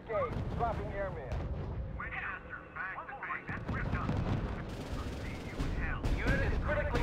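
Battlefield gunfire and artillery in the WWII strategy game R.U.S.E., with heavy crackling bursts and booming impacts rolling continuously under radio-style unit voices and other game chatter.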